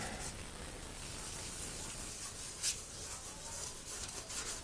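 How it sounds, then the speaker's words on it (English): Wet sanding over Krylon Fusion paint laid on Plastidip, a soft, steady rubbing rasp that runs continuously at low level, with one brief brighter scrape midway. "now I'm going to go ahead and do some wet sanding"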